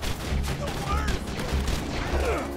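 Mr. Turret, a deployable gun turret in Borderlands 2, keeps up steady rapid fire in repeated bursts under a dense mix of battle noise.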